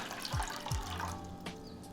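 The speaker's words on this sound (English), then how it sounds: "Putting enough water to cover 6 eggs in a pot" Tap water runs into a pot for boiling six eggs, a short steady gush with a couple of low hollow thumps near the start.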